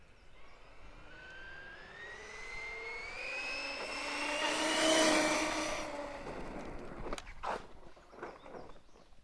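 A brushless Traxxas Summit RC truck on a 6S LiPo pack at top speed, its motor whine rising in pitch as it approaches and passes, swelling loudest mid-pass, then fading, followed by a few sharp knocks.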